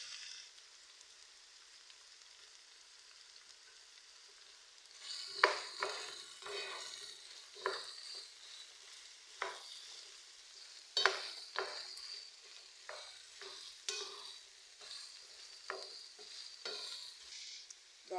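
Zucchini is stirred and fried in a pan, giving a soft, steady sizzle with repeated scraping stir strokes. The sounds are close and fairly quiet.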